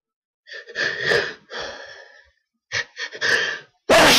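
A sudden loud sneeze bursts out at the end, after several stretches of breathy, sighing vocal sounds close to the listener.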